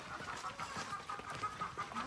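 A flock of turkeys gobbling and clucking in a busy, overlapping chatter, steady and moderately distant, with no one speaking.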